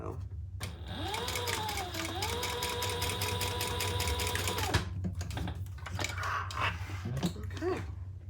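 A sewing machine stitches a row on a Magnolia Rae Traveler fabric pouch, a steady rapid mechanical chatter lasting several seconds, then stopping, with a voice speaking softly over it and light handling noises afterward.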